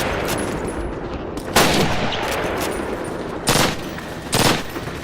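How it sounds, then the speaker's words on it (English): A PPSh submachine gun fires in Call of Duty, loud close bursts breaking through steady background game noise, with three or four distinct rapid volleys. "what the PPSH sounds like in this game?"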